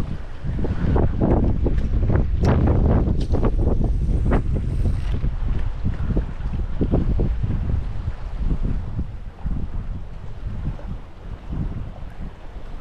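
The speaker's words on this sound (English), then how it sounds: "It's super windy and dirty though." Strong wind buffets the microphone outdoors on the water while inshore saltwater fishing, a loud continuous low roar with gusting bursts that ease slightly toward the end.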